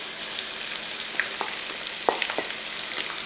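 Two sliced onions land in a hot pan and fry with a steady sizzle, a few sharper crackles and pops breaking through the constant hiss.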